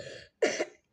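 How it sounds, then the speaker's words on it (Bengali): A single person gives two quick coughs, the first a short rasp and the second a louder, fuller burst after a brief pause, close to the microphone with no talking. "তো আজকে আমার একটু কাশি হয়েছে,"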